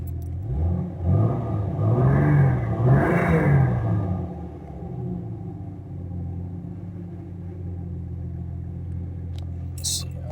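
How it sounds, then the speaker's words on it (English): A Jeep Cherokee engine idles in a steady low rumble after spark plug replacement, with a person speaking over it at first, then the engine continuing alone at an even level. "It idles really nicely now."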